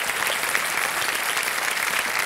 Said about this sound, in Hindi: तालियों के साथ आपका अभिनंदन करते हैं।